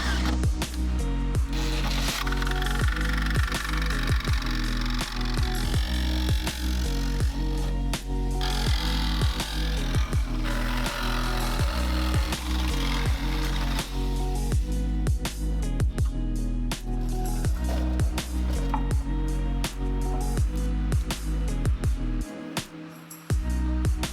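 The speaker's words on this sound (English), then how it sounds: "I'll try to use the jigsaw so that I don't make any sparks because I am right next to the gas filler neck" Jigsaw cutting through a car's quarter panel sheet metal next to the gas filler neck on a junkyard widebody build, a loud, continuous buzzing cut with short pauses and repositioning clatter throughout.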